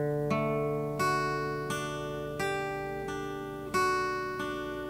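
A guitar plays two bars of a simple picked pattern read from tablature, alternating notes between the high and second strings. About six evenly spaced plucked notes ring over one another, soft and close, with no voices.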